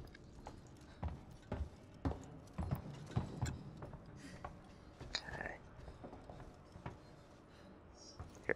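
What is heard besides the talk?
footsteps walking around in the video game Alien: Isolation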